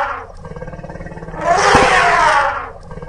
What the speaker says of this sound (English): E for elephant. E for elephant.